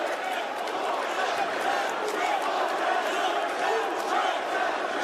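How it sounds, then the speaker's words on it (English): A sold-out wrestling arena crowd roars and cheers on its feet, a dense continuous wall of voices filling the whole stretch at high volume. "This sold-out crowd on their feet."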